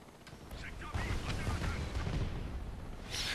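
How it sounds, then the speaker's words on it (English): Rapid gunfire and explosive bursts from a secondary gun with recoil in the Homefront multiplayer video game, a dense, continuous barrage with loud booming low end throughout the short stretch. "The secondary gun does have recoil. It makes it pretty difficult to shoot somebody who's moving."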